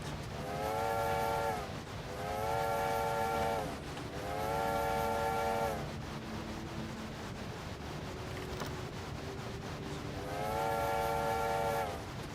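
In a steam train video game, a steam whistle sounds in four long, repeated blasts over the steady rumble and clatter of a moving train.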